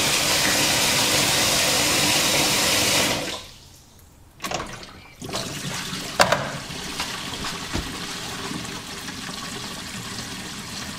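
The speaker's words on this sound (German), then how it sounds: "dann werde ich den Abfluss einmal komplett öffnen, damit schnell das Wasser durchfließen kann" Water rushes loudly and steadily through a newly fitted kitchen sink siphon for about three seconds, then cuts off abruptly, leaving scattered gurgles, knocks and trickles as the drain empties.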